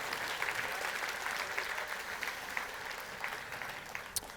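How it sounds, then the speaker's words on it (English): A conference audience at a community developer event applauds together, a steady wash of clapping heard from a distance and fairly faint, alone without talk. "let's go ahead and applaud ourselves one big time"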